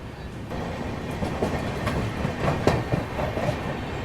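The Sarnath Express passenger train rolls along the tracks with a steady, loud rumble heard from on board and faint rhythmic wheel clacks on top.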